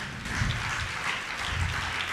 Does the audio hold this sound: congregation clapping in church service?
yes